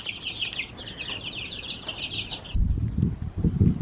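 Chickens and young turkey poults on a homestead farm cluck and chirp in a steady, busy chorus of high calls for most of the stretch, then fall away under a burst of close, low rustling and handling noise near the end.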